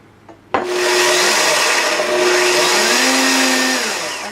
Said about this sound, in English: blend our 2½ cups of oatmeal right in our blender